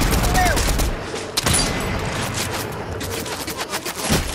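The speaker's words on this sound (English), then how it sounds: "Somebody shooting at us." Gunfire from the Fortnite video game rattles in dense bursts, loud and continuous, with a heavier shot near the start and scattered pops later on.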